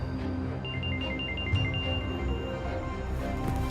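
A telephone ringtone, a repeating electronic melody of short bright tones in a steady rhythm, played at moderate volume over low background noise.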